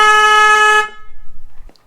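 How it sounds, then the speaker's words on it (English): A 410 Hz air horn fitted to a Harley-Davidson Softail Sport Glide blasts once, a loud, close, steady honk under a second long, then stops, leaving faint background rumble. "next we're going to test the air horn for the 410 Hertz"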